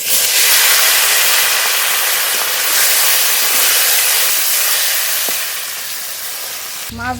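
Large tilapia fish fry in hot oil with a loud, steady hissing sizzle that holds throughout, easing slightly toward the end before a brief clatter.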